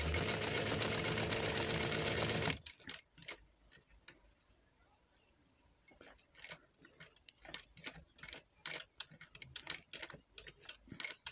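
Sewing machine stitching a front placket: a loud continuous whir for the first two and a half seconds, then quieter irregular ticks and clicks of handling.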